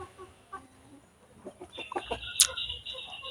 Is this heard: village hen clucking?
yes